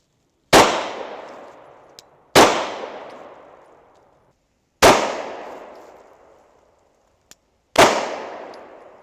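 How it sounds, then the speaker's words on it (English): Four loud 9mm pistol shots with full metal jacket rounds fired at an outdoor range, spaced irregularly, each a sharp crack followed by a long decaying echo, with no talking. "I've got the full metal jacket, so we're going to shoot that and then try the hollow point."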